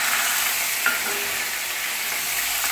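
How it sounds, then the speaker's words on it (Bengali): Okra drops into hot mustard oil in a kadai and fries with a dense, steady sizzle close up, with a faint clink of stirring and no voices. "ঢ্যাঁড়সগুলো আমি লাল লাল করে ভেজে নেব।"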